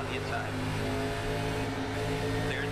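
ARCA race car engine in iRacing at Iowa Speedway, a steady loud droning rev that holds at constant pitch throughout, with other cars' engines mixed in.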